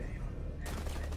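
Gunfire in Rainbow Six Siege, a loud burst that cuts in about halfway through and keeps going to the end over steady low game background.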